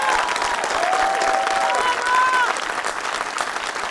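An audience claps for a young girl strongman performer, a brief burst of applause with a few voices and a whistle-like tone over it.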